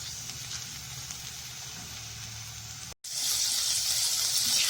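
Turmeric dissolved in water roasts in a pan with a steady, soft watery hiss and sizzle. It cuts out briefly partway through, then comes back brighter and louder, with no talking.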